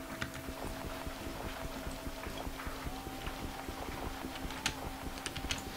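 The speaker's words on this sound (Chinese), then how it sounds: "总是挖泥土的声音。" Dirt being dug in a video game: a quick, steady run of soft scraping thuds repeats throughout, fairly quiet, over a sustained tonal drone of background game sound.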